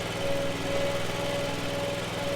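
A lawn mower engine hums steadily as it pulls a Ford Explorer up a slope, a constant droning whine at moderate distance with no speech.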